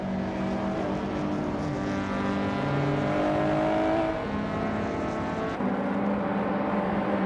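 A 1993 Lancia Delta HF Integrale racing in a video game, its engine droning loudly and continuously as it pulls away from the start, the pitch rising and shifting through gears with no talking.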